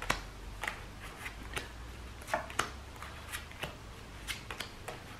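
Playing cards shuffled and mixed by hand during a close-up magic trick, a run of soft papery riffles and flicks at an uneven pace, close and quiet with no talking.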